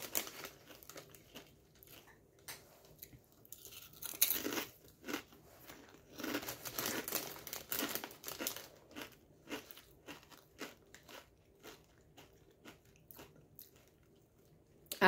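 Lightly salted vegan crisps are eaten up close, giving a run of crisp bites and crunchy chewing with some bag crinkling, quiet overall with louder bursts in the middle.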